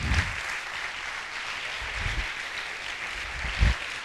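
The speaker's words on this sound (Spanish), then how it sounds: "Él se merece un aplauso nuevamente." A church congregation applauds steadily, a moderate wash of many hands clapping with a few louder low thumps, no voices standing out.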